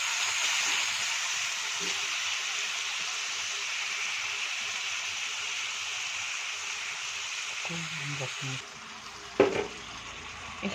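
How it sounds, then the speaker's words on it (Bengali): Ginger, garlic and onion paste being stirred in a pan for chicken curry, a steady broadband sizzle running throughout with a few soft scrapes and a louder knock near the end. "ভালো করে লাড়ে নেব।"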